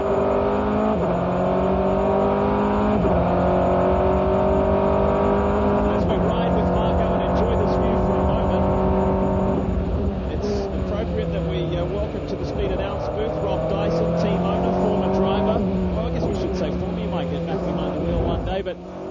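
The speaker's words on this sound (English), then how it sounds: "As you ride with Werner, second place, you look at the lead car." Race cars in a 2004 American Le Mans Series race roar loudly and continuously at speed, engine notes rising and dropping with gear changes while cars pass, with commentary spoken over them.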